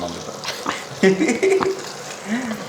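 A pot of pongal is stirred, giving a soft scraping, bubbling churn close by while a voice talks over it.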